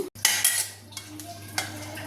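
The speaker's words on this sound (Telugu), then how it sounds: "ఈ ఉల్లిపాయలు కూడా వేసేసి ఎక్కువసేపు కాకుండా రెండు నిమిషాలు తిప్పేద్దాము" Utensil stirring sliced onions in a hot pan for red chilli gongura chutney, scraping and clinking against the metal in uneven strokes over a low steady hum, close and moderately loud with no talk.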